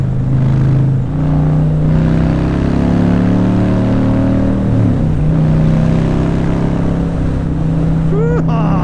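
A 2020 Harley-Davidson Fat Boy motorcycle engine hums loudly and steadily, its pitch climbing and shifting as it accelerates, with wind rushing past throughout.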